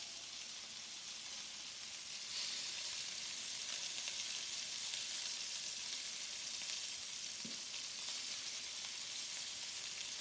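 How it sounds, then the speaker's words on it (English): Steady, loud sizzling of beef frying in a pan, a continuous crackling hiss with a brief scrape partway through. "This is really coming along now in the frying pan."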